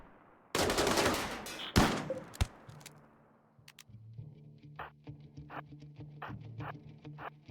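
Gunfire in the video game RimWorld during a firefight against a robot and turret, beginning with a few loud, sharp bursts, then a lighter string of rapid, regular pops that continues more faintly.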